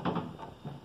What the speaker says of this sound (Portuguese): Vamos colocar as gavetas.